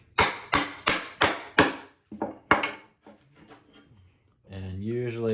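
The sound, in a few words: hand saw cutting a wooden bridle joint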